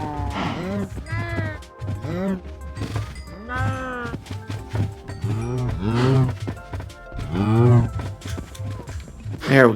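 Several cows in Minecraft moo repeatedly in overlapping, drawn-out calls, loud and close, with soft game footsteps beneath.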